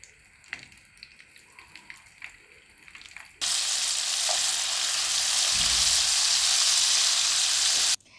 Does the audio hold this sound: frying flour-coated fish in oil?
yes